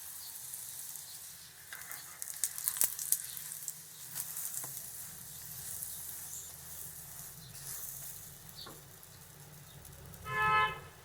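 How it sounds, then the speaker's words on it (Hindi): Paratha frying in desi ghee on a hot tawa gives a steady, soft sizzle with scattered crackles and pops, followed by a brief louder hiss near the end. "ये मैं बना रही हूँ देसी घी में पराठा।"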